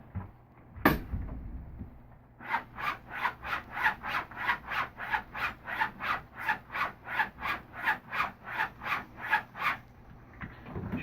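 A straight razor's edge rubbed back and forth on linen during honing, making a slow, even series of about fifteen soft, close scraping strokes in a steady rhythm with no talking.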